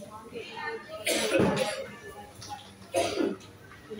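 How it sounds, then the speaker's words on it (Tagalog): Two rough coughs or throat-clearing bursts, a couple of seconds apart, in a room with faint background voices. "may umuubo"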